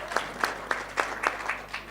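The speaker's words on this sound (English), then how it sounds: "Mr. Lebo Khadebe, let's give him a round of applause, Chairman of Sigwili." An audience at a live national health insurance dialogue event claps in a sparse, regular rhythm of about eight distinct claps, moderately close.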